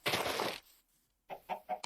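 A Minecraft chicken gives a few short clucks in the video game: one louder burst, a pause, then three quick soft clucks in a row, with no talking over them.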